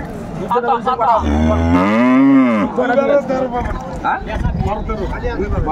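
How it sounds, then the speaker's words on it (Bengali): One loud, drawn-out moo rises and falls from a dairy cow or calf at Raniganj cattle market in Dinajpur, set amid busy background chatter and people talking nearby. "চমৎকার গাভী বাছুর আমরা দেখছিলাম।"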